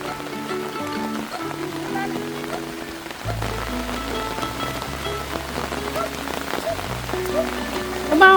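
Rain patters steadily on a surface at a flooded pig farm, a continuous hiss heard under a low droning engine-like tone, with people talking intermittently.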